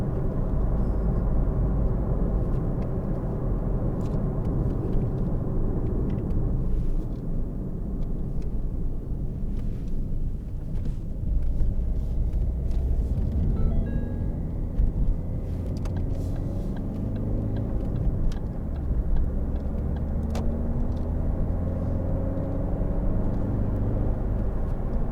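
A 2013 Ford Focus 1.6 TDCi ECOnetic diesel hatchback drives on the road with a steady low engine rumble and road noise, which swells as it gains speed and changes gear.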